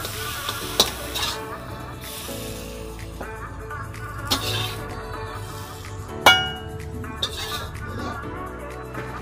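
Potatoes fry and get stirred in a pan, with a steady sizzle under several sharp scrapes and clinks of the spoon against the metal, close up, with no voices.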